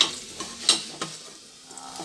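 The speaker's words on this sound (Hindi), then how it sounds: "तो वंशु लगा रही थी यहाँ तड़का, प्याज वगैरह हो गया था तो उसमें टमाटर डाल दिया था।" Tadka sizzles in a pan of onion and tomato, a light steady frying hiss with a few sharp stirring clinks and scrapes, near and alone without talk.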